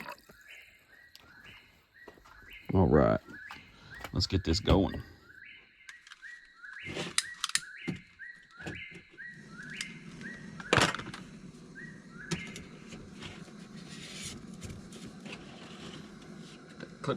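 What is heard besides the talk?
bird singing at Ozarks campsite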